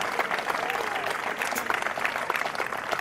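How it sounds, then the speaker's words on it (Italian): A concert crowd at an outdoor tribute show in Lugo di Romagna claps steadily, a brief burst of mid-distance applause with scattered cheers mixed in. "Fatevi ancora un applauso per la vostra partecipazione."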